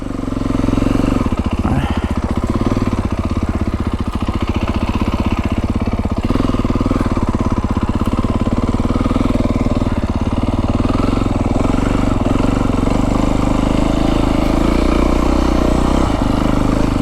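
A Beta 350 X-pro dirt bike ridden on a mountain trail in southern Arizona, its single-cylinder engine droning steadily and close by at a mellow, even pace with little change in revs.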